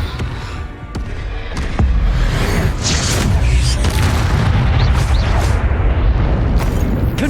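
Confringo blasting spell explosions in the Hogwarts Legacy video game: a string of loud, booming blasts with sharp bursts, dense and continuous, layered over one another with rumbling low end.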